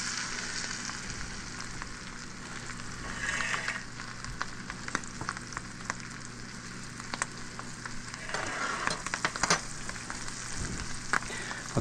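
Sardines frying in a pan make a continuous, moderately loud sizzle with scattered crackles and pops, swelling slightly at moments, heard up close without any voice.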